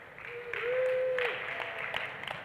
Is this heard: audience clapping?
yes